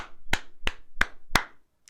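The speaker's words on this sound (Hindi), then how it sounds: "तालियां बजाता हूं मैं" A man claps his hands four times in a slow, steady rhythm, each clap sharp and close, followed by a faint tap at the end.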